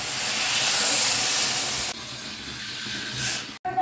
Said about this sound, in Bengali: ভাজা হয়ে গেছে, এখন দিয়ে দিব জল,